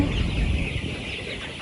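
Twenty-two-day-old farm chickens cluck together around midday feeding time, a dense, steady flock murmur close by with no voices.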